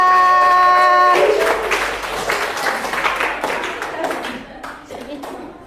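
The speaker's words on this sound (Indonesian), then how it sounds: "Tepuk tangan buat teman-teman" A classroom group applauds their classmates with a burst of hand claps that thins and fades over several seconds, while voices chatter underneath.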